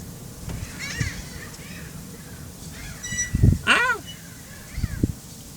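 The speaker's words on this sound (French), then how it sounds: "Il y a des mouettes ou quoi?" Seagulls give a few short rising-and-falling cries at mid distance outdoors, scattered among children's voices and a short shout.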